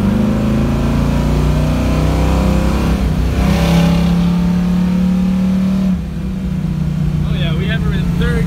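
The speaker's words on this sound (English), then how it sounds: "So let's go ahead and give her some gas though." A 1974 Chevrolet Camaro ProStreet engine revs and accelerates nearby, its deep drone rising in pitch, then easing off and settling into a lower rumble.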